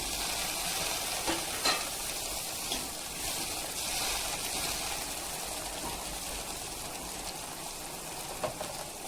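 Food sautéing in hot oil with asafoetida and tomatoes, a constant bright sizzle, a few soft clicks of stirring now and then, near and steady, no voices.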